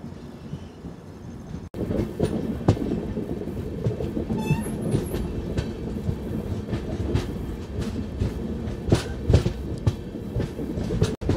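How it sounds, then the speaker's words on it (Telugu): On the Kakinada Port–Bhavnagar superfast express, heard from on board after turning onto the Guntur line, wheels beat out a continuous clickety-clack over a steady rumble, with a brief faint squeal partway through. "కృష్ణా కెనాల్ దాటిన తర్వాత మన ట్రైన్ అయితే గుంటూరు లైన్లోకి టర్న్ తీసుకుంది."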